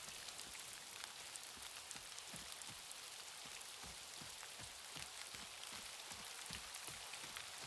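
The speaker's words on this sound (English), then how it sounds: "And it's still raining." Rain falls steadily in the survival video game Dawn of Defiance, a soft continuous hiss with scattered droplet taps, heard alone at low volume.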